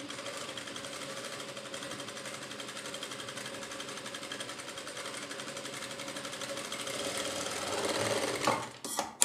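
A sewing machine stitches a long seam along kurti fabric in one continuous, even close whir, rising slightly near the end before stopping with a few clicks of handling.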